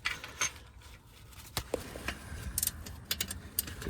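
A ratchet and socket working a bolt loose on a Porsche 924, close, with sparse clicking bursts and scattered mechanical knocks, no talking.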